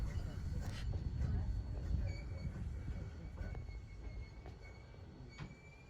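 Old coaches rolling in behind a steam engine, a steady low rumble of wheels and rail noise with a faint squeal near the start, with voices over it.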